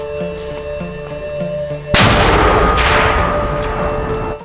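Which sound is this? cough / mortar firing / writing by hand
mortar firing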